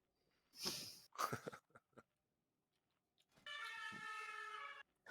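A police or ambulance siren heard once during a Naxxramas raid session, a steady wailing tone lasting about a second and a half after a few brief bursts of other sound, fairly faint and not under talk.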